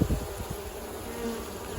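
Dense, steady buzzing of many honeybees in a hive during a spring inspection, close and continuous, with no talking.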